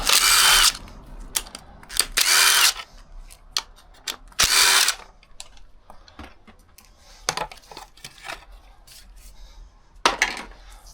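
Power tool working on a Renault Kangoo while the cover is removed to reach the water pump: several short, loud bursts of drilling or driving, with ratcheting clicks and small metallic handling noises in between.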